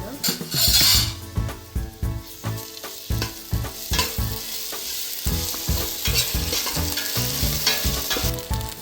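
Onions fry in a pan with ginger garlic paste for a country-style chicken biryani. A spoon scrapes and knocks against the pot in a brisk, rhythmic stirring pattern over a constant sizzle, close and fairly loud, with no talking.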